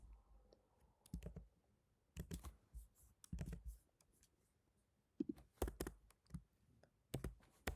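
Computer keyboard typing Java code comes in quick irregular bursts of close, crisp key clicks separated by brief pauses.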